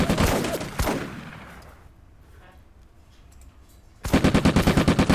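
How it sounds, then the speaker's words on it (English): Gunfire in the Combat Mission: Afrika Korps video game, with bursts of rapid machine-gun fire at the start and a loud repeating burst at the end, separated by a quieter stretch of faint battle noise. "So let's open fire and take these bastards out."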